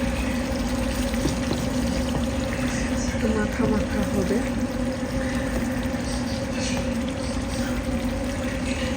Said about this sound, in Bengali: আর কিছুক্ষণ রান্না হবে ধরেন দশ মিনিট রান্না করবো এখনই শেষ তাহলে একটু পানি দিব